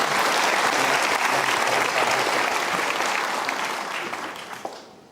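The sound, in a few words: applause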